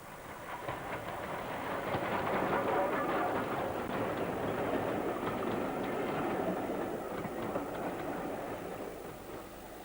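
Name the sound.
War Department austerity locomotive running on rails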